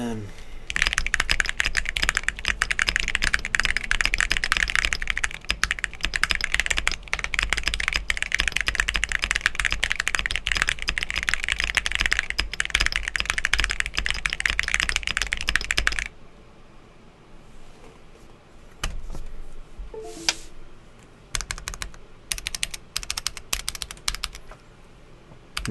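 Mechanical keyboard with brown Gateron Oil King switches typed rapidly and continuously, a dense close clatter of keystrokes for about fifteen seconds, then quieter sparse key presses.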